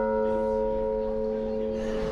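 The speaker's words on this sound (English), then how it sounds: "Bells, of course." A bell in a bell tower on Bauman Street in Kazan, Russia rings out with a sustained, humming tone that lingers steadily, heard from fairly close.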